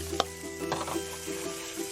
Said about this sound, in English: Using the same pan, we're going to saute our garlic